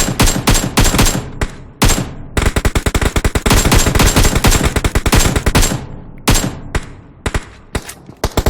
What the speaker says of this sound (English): Null getting shot in the back by Enigma